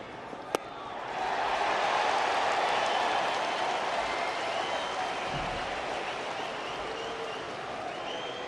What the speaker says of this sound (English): listen to the crowd, let him have it